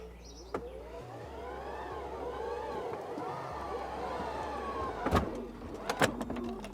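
A Tesla's Falcon gull-wing doors whir closed with a smooth rising-and-falling motor hum, ending in a couple of sharp latching thumps.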